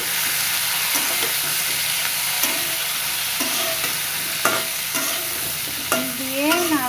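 Vegetable stalks and potato frying in a pan with onion and cumin paste, a steady sizzle and hiss with intermittent scraping stirs, ending with a few squeaky rubbing sounds.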